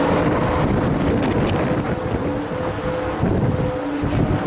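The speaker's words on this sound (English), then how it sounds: "It's going to be kind of windy." Strong wind blowing outdoors beside a large monster truck, roaring across the microphone in a loud, steady rush with gusty surges and no one speaking.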